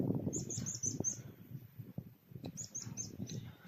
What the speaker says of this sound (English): There's a few small birds about.